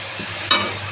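Green chilli frying in a pan with leftover rice pulao nearby, a soft stir and scrape rising over a steady low sizzle, close and brief.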